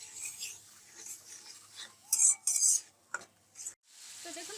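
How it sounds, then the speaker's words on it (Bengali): Spices for canteen-style ghugni are sautéed in a pan, with several bursts of a spoon scraping and stirring over a light sizzle, close and fairly quiet. "এখন এগুলোকে ভালোভাবে কষিয়ে নিচ্ছি।"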